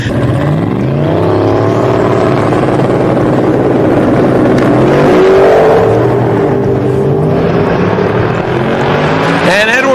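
Drag racing cars, including a Ford Crown Victoria, roar down the strip toward the finish line, a loud, continuous engine note climbing steadily in pitch with a second wave of acceleration near the end.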